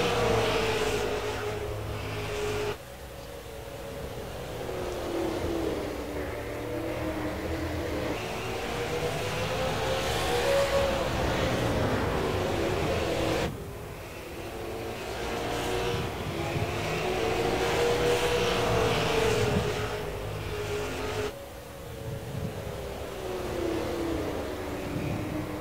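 Race cars lapping the track at the NASRA Myrtle Beach 100, engines droning and rising and falling as cars pass, with revving swells and a steady loud roar throughout.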